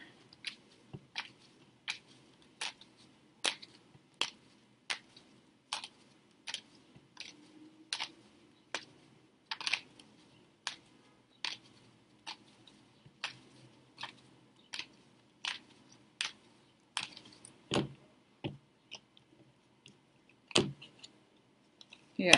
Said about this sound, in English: let's see now the Italian cards. I'm going to shuffle them.